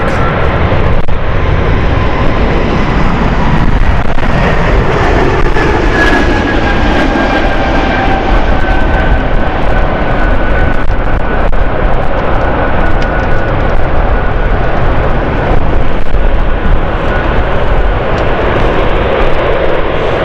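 A jet airliner coming in to land at London City Airport in a strong, gusty crosswind, its engine roar steady and loud throughout with a faint rising whine above the broad rumble of wind.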